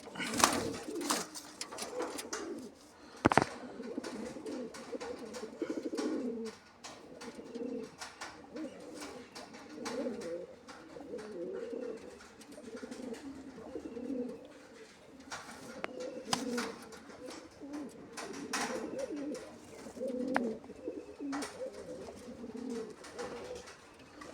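Pigeons coo steadily in low repeating bursts through a pigeon sale for pairs, with a few sharper knocks and handling noises, and faint voices appear now and then in the background.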